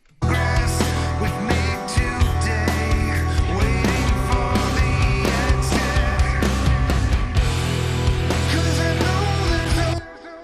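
A full music mix plays loudly and densely, with a drum fill running into a chorus among sustained instruments, continuing steadily before cutting off near the end, with no talking.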